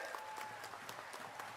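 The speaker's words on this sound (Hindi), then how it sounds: "जरा जोरदार तालियों से इस नगरी पर राहुल गांधी जी का" A crowd applauds at a political rally in Shahdol, Madhya Pradesh: steady, dense clapping from many hands, distant and fairly even throughout, with a faint tone cutting across briefly.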